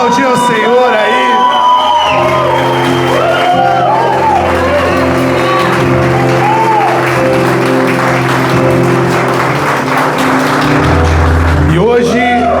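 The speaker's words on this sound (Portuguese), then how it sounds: "Vamos aplaudir ao Senhor aí." A church congregation at a Sunday morning communion service claps loudly and continuously with whoops and shouts, while music plays underneath and voices call out over the crowd.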